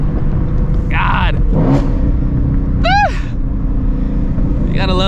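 A Ford Shelby GT350 fitted with catless long tube headers and an X pipe rumbles loudly and steadily, with sharp rising and falling rev sweeps breaking through the low growl.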